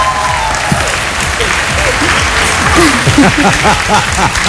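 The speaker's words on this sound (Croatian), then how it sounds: "Molim vas, aplauz za Tončija Kuljića" A live television show audience applauds at the semifinal opening of a talent competition, steady loud clapping throughout with crowd noise and a few voices rising over it.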